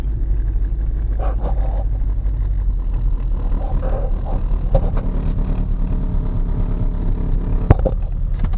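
A 19-year-dormant old Volkswagen, bought for 200 dollars, drives along with a steady low engine drone and road rumble throughout, plus occasional rattles and one sharp knock, heard from inside.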